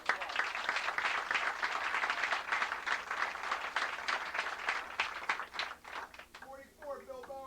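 A crowd at a 1992 high school football banquet gives the seniors a round of applause, steady, dense clapping that fills the room and tapers slightly near the end as a voice begins speaking.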